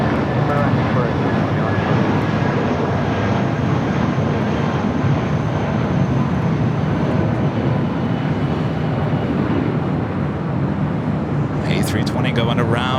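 An Airbus A320 airliner going around at LAX, its engines roaring loud and steady for the whole stretch with no break, a broad continuous jet rumble, while radio talk runs underneath.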